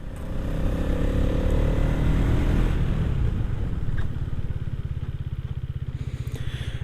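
A Hero Xtreme 250R motorcycle is ridden in road mode, its engine loud and steady, then dropping to a slow, throbbing idle-like putter as the bike brakes on the rear.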